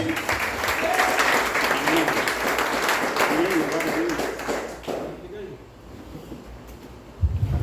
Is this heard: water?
no